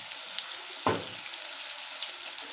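Drumstick leaf pakoda deep-frying in oil over a low flame, a quiet steady sizzle broken by one sharp crackling burst near the start and a couple of small pops.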